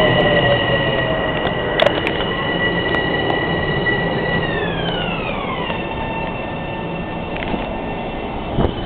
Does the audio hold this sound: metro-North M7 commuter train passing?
yes